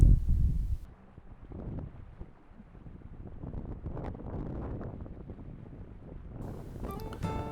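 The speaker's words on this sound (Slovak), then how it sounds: "ale vetrík troška pofúkuje" A light wind blows outdoors at a carp-fishing spot on the Kráľova reservoir on a hot day, making a continuous low rumbling buffet across the microphone that rises and falls slightly, with no voices.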